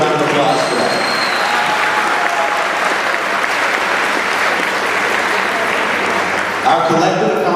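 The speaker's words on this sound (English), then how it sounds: "So let's give you a round of applause for that." A large crowd applauds middle school graduates at a promotion ceremony, a dense, steady wash of clapping that stays loud throughout and thins slightly at the very end.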